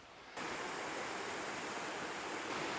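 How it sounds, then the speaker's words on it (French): A natural waterfall cascading into a small bubbling pool, a dense roaring rush of water that starts abruptly and then holds steady and loud, with no voices. "encore une cascade et un petit bain bouillonnant naturel là"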